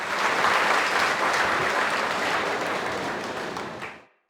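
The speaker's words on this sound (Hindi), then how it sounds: "आप लोग जोरदार तालियों के साथ सर का स्वागत कर सकते हैं।" An audience at an exam-preparation seminar breaks into loud, sustained applause that fills the room for about four seconds before quickly dying away.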